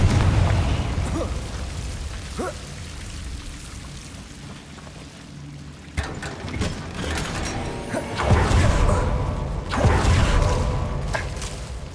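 Confringo fire spell blasts in Hogwarts Legacy inside a mine, several booming explosive bursts with crackling debris and rumbling tails, loud and close, amid ambient game noise.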